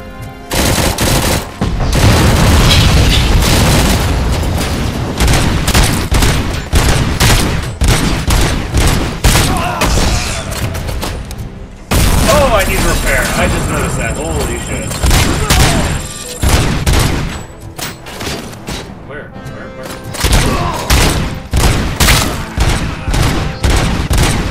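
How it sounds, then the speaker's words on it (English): Gunfire and explosions from the Robocop Rogue City video game rattle almost continuously, loud rapid bursts and booming hits with a short pause in the middle. "Is enough shooting for you?"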